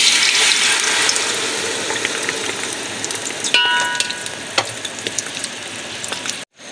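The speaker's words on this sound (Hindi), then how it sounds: "अब हम इसमें शामिल कर देंगे अपनी चाशनी जो हमने बनाई थी।" Jaggery sugar syrup poured into a hot pan of rice for jaggery rice with chana dal sizzles and hisses continuously, loud and close, with scattered crackles and pops and no talk.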